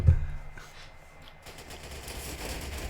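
Machine gun fire in Call of Duty World at War, a burst of rapid shots at the start, then fainter distant gunfire and rumble.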